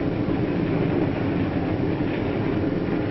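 A 1955 passenger train on the tracks heading out of town toward the main line, producing a steady, loud rolling rumble and rattle of wheels and cars, continuous and unbroken.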